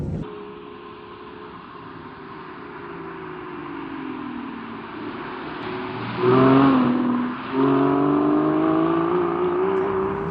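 An Aston Martin V12 Zagato's engine and exhaust drone from inside the car, then swell into a louder rev partway through and hold a rising, throaty note.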